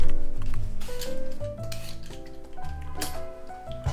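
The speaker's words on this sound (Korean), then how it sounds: "저는 오늘 이제 만돌린 슬라이서를 이용하겠습니다" Radish being cut on a mandoline slicer for summer white kimchi, with rasping strokes against the blade over steady background music.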